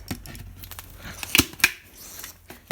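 Tin snips cut into a tin can to open a hole for a bird feeder, giving a few sharp metallic snaps and clicks over faint scraping, close and fairly quiet.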